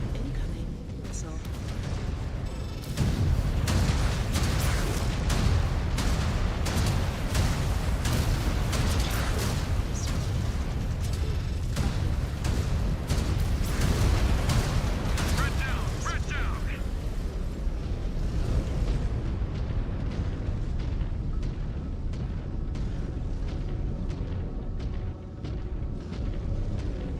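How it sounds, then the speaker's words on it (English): Incoming missile explosions in MechWarrior 5: Clans, a mech combat game: a long stretch of loud, dense, rumbling blasts and rapid impact bursts that pile up continuously, with a speaking voice under the din. "Incoming missile."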